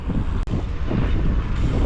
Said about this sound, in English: It is a bit windy.